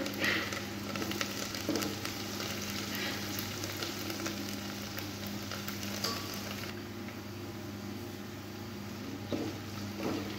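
Masala ingredients fry in a pan for a black-masala chicken dish, giving a soft continuous sizzle and light crackle at close range, fairly quiet and steady with a few faint utensil touches.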